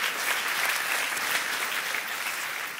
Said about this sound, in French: applaudissez bien fort, s'il vous plaît